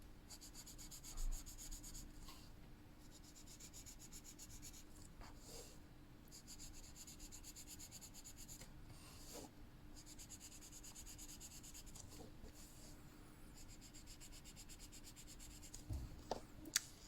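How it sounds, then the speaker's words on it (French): Soft, steady rubbing of a blending stump along pencil strokes on paper, a faint continuous scratchy hush for the whole stretch with a few slightly louder strokes, close up and with no talk. "Vous pouvez suivre le sens du trait avec votre estompe si vous voulez éviter que ça d'en mettre partout."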